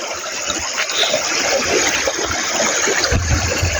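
River water flows steadily on a rural smallholding at daybreak, a continuous close rushing and trickling with no talk.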